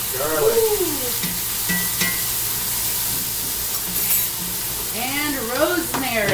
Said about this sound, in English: Go ahead and toss in the garlic